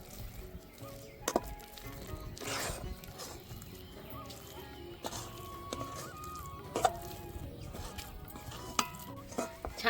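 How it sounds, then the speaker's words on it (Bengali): Chhana (milk curds) is cooked and stirred slowly in a pan: soft scraping and spoon knocks recur irregularly over a faint sizzle, close and moderately quiet, with occasional sharper clinks and no talking. "ছানাগুলো দিয়ে আস্তে আস্তে জাল করে নেব।"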